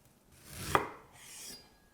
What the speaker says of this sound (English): Might just cut it down into little smaller bits.